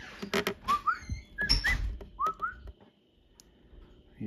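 A baby emu chick gives several soft, rising whistled peeps in quick succession, close and fairly quiet, mixed with light rustling and bumps before fading to near silence.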